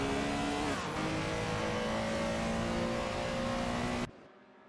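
1950s Formula 1 cars race at Bahrain in a racing game, a loud sustained engine whine at high revs that shifts pitch once, then cuts off abruptly to quiet.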